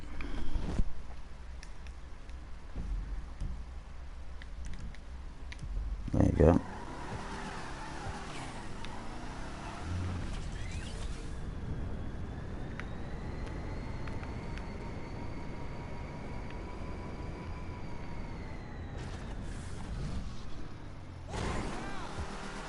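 A car drives in the Grand Theft Auto video game, its engine droning and rising in pitch under steady acceleration, with a short screech and a couple of louder bumps, someone talking over it now and then.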